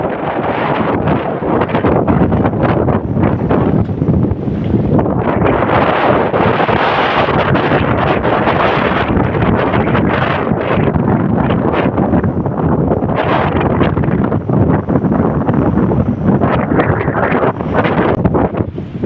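Strong wind roars and buffets a microphone continuously, loud rumbling gusts with rushing noise throughout, no talking.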